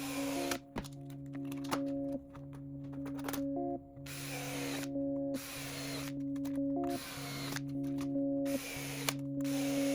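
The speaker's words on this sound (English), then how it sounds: "So let me get this drilled out." A power drill bores holes in the skylight material of a RANS S-21 aircraft, a loud close whine with a steady pitch that stops and restarts in short repeated bursts, separated by brief pauses and small clunks.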